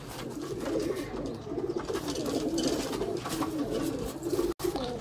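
Pigeons coo repeatedly in a rooftop loft, the low rolling calls close and overlapping in a steady rhythm over faint background hum.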